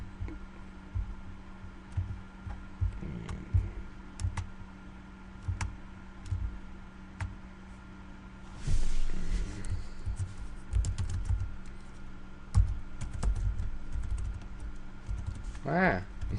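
Someone types on a computer keyboard in a conference room in brisk runs of key clicks, close and moderately loud over a low hum, with a few louder taps and some background voices.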